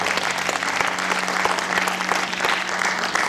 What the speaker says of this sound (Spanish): denle fuerte palmas al Señor